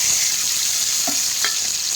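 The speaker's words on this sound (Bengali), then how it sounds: "চিংড়ি মাছটা দিয়ে ভালো করে ভেজে নেব।" Prawns fry in hot oil with a loud, continuous sizzle heard close, broken by a couple of faint spatula taps.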